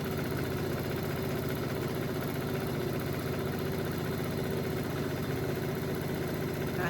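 A sewing machine stitches quilt blocks together in pairs with a steady, continuous motor whir and fast needle chatter, even in level throughout with no talking.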